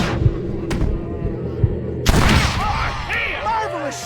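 A gunshot in the video game Red Dead Redemption rings out sharply about two seconds in, preceded by fainter thumps and followed by lingering crackle, with voices talking around it.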